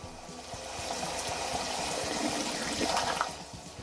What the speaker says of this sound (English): open the valve until it's fully opened and let it flush the water tank until the water coming out the hose clears up